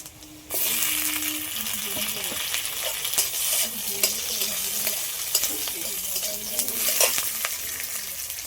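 Chopped tomato hits onions already lightly fried in a pan, setting off a loud, steady sizzle over which a spatula scrapes and stirs repeatedly and close up, with no one speaking.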